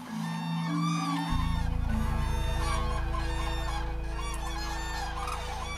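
A large, noisy flock of migrating cranes and geese squabbling, with dense overlapping honks, calls and clucks all at once, loud and close, keeping up a steady din without any talk.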